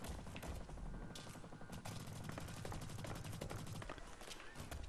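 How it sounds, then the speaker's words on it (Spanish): Rapid bursts of gunfire in the video game Blacklight: Retribution on PS4 crackle over a dense, noisy background, shots coming in quick clusters at moderate distance, fairly faint overall. "oigo disparos"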